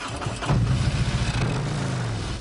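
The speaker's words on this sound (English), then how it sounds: "As the engine roars to life and he sets his sights on the road" A Harley-Davidson motorcycle ridden by an Army veteran starts up and revs, its loud, close engine rumbling steadily and swelling in a continuous roar.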